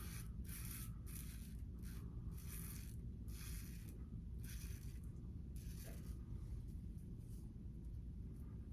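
A Fine Accoutrements DE5 safety razor fitted with a Feather blade scrapes across stubble in a series of short, rhythmic strokes, each a crisp rasping burst, close and quiet over a steady low background hum.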